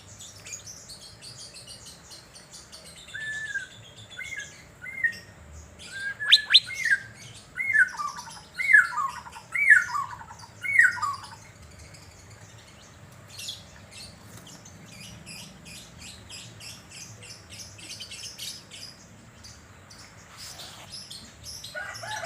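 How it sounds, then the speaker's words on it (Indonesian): A caged Asian fairy-bluebird (cucak biru) sunning outdoors in Banjarmasin gives a series of clear, repeated whistled calls in a rhythmic burst, with fainter chirps from other birds around it and a low background hum. "Siang ini kita mau dengerin ocehan burung"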